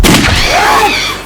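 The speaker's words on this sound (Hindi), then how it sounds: "ये तो गोली की आवाज है।" A single loud gunshot in a tense crime drama scene cracks out close by as a sharp broadband blast, then trails off in a rumbling, echoing decay over about a second.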